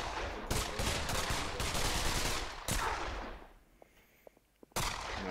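Rapid bursts of gunfire in a VR shooting game played on an HTC Vive, dense and loud for about two and a half seconds, then a pause with a few scattered faint shots before another loud burst.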